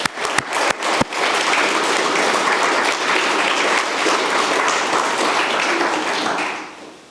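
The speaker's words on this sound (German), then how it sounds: "Ich bitte jetzt in diesem Zusammenhang einmal um einen warmen Applaus für alle freiwilligen Kirchenpfleger." A church congregation gives warm applause for its volunteer church caretakers: a few separate claps come first, then dense, steady clapping sustained at moderate volume before it fades out.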